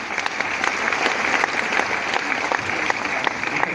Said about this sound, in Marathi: एकदा स्वतःसाठी जोरदार टाळ्या झाल्या पाहिजेत मित्रांनो